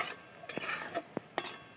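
Boiled Maggi noodles with a little water left are stirred in a pan, soft scraping strokes with a few sharp utensil taps against the metal, quiet and close with no voices.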